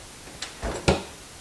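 A workshop drawer in a woodworking shop pulled open, with a faint tap, a short slide and a sharper knock as it stops, all within about a second.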